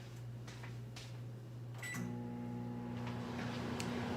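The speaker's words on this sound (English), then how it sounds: "I'm gonna put it in the microwave for 1 minute" Keto pizza is placed in a microwave oven: a couple of clicks and a door thud come first, then the oven starts running with a steady low hum.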